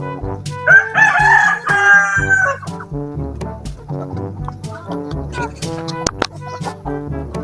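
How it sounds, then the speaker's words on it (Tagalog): Chickens on a farm, including gamecock breeds: a loud, close rooster crow rings out early, followed by scattered clucks and short calls from several birds. "sumusunod yung mga maliliit na manok oh"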